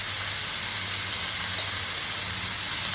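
Vegetables frying in white oil in a wok with a little salt, a steady close hiss and sizzle that holds evenly throughout with no talk.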